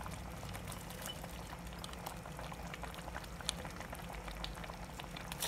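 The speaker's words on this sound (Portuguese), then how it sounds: "agora eu vou acrescentar as ervilhas" Peas are poured into a mushroom curry sauce simmering in a pan, giving a steady close bubbling with a soft pouring patter throughout and no talk.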